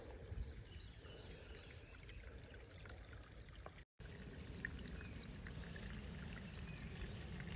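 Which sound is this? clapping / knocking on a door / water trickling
water trickling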